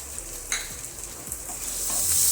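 Ground bitter gourd seeds roasting with ginger and garlic in a pan crackle with a bright, close sizzle, broken by a few quick stirring scrapes, the frying swelling slightly louder toward the end.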